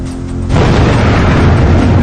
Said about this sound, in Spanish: una explosión aún mayor hace estallar en pedazos el edificio que alberga el reactor número 3